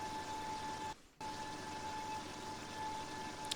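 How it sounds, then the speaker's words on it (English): Volkswagen Beetle engine in The Long Drive held at high revs, a loud sustained droning whine that cuts out briefly near the start and then resumes just as steady. "This poor little Beetle engine would not last very long. Revving out like this constantly."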